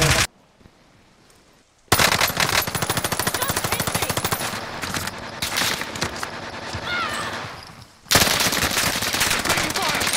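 Video game gunfire rattles in dense, loud automatic bursts. A short quiet gap comes early, then steady firing continues with a brief lull near the end, and a voice may be faintly present.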